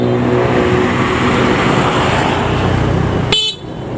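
A bus trumpet horn blares on a busy road, a loud sustained multi-tone blast over heavy traffic and engine roar that cuts off sharply near the end.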